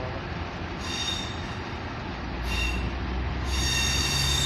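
A Class 158 diesel unit at Leicester station rumbles close by with low engine drone, while wheels squeal in bursts of high-pitched screeching three times over the clip.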